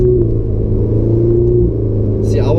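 A Ferrari 488 engine drones steadily while the car is driven on a track, a loud, close, continuous low rumble heard from inside the car.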